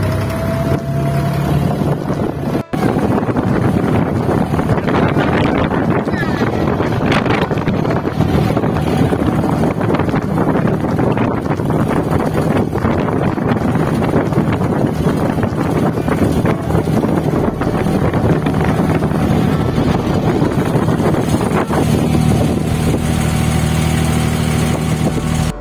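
An abra, a small wooden water taxi loaded with about 15 to 20 passengers, crossing Dubai Creek from Deira, its engine droning steadily and loudly under constant wind buffeting and water rush.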